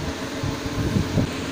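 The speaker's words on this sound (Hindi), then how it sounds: "पंखे का शोर होगा आपको" A ceiling fan running in a quiet home room, giving a steady low whooshing air hum with a faint rhythmic pulsing, continuous and moderately loud throughout with no talking.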